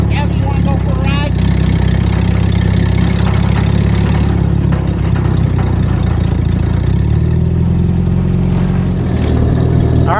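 A WWII Jeep engine runs loud and close for the whole stretch, idling with a few rises in revs, while people talk over it.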